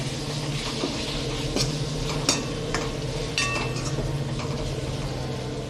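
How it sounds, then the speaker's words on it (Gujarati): Green garlic stirred into a sizzling Shahi eggplant-potato curry in a home kitchen pan, a steady frying hiss with scraping stirs and a few sharp clinks of a spoon against the pot. "હવે લીલું લસણ નાખશું આ શાકમાં"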